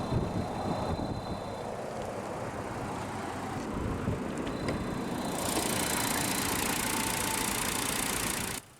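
A 2020 Volkswagen Jetta SE's 1.4-liter TSI turbocharged inline-4 engine idles steadily at close range, a low continuous rumble with a brighter hiss rising partway through.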